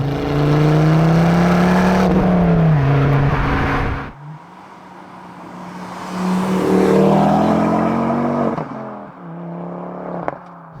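A Mk2 Ford Focus ST engine revs hard and loud, dropping off abruptly, then swelling again on a second rev and easing away near the end.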